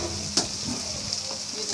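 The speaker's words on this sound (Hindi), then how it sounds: "मैं अच्छी तरह इनको मिक्स कर दूँगी" Cabbage and potato filling being mixed in a hot pan, a steady close sizzle with one sharp utensil knock and soft stirring scrapes, no voices.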